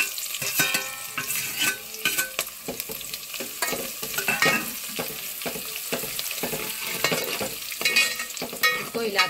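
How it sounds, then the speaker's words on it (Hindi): Chopped cashews, almonds and pistachios fry in a hot pan with cardamom, giving a continuous close sizzle broken by frequent scraping and clattering stirs, with no talking. "इसको हिलाते रहे नहीं तो काजू जल जाते हैं।"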